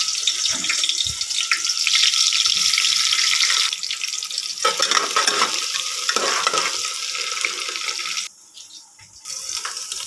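Oil frying in a pressure cooker, a loud hissing sizzle with stirring scrapes and clatters, the crackle dipping briefly toward the end before resuming.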